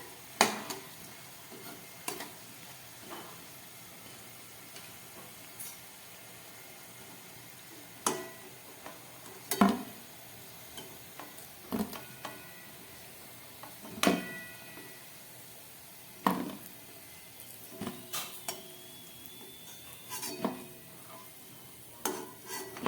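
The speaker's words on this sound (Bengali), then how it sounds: "কচুরিগুলোকে খুব ভালো করে একদম গ্যাস কমিয়ে ভেজে নিচ্ছি" Soft, low sizzling of chicken khasta kachoris frying in oil on low heat, punctuated by scattered sharp clicks and clinks of a utensil against a pan.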